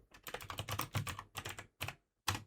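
Typing on a computer keyboard set behind a microphone, a close, busy clatter of rapid keystrokes in bursts with short pauses between them.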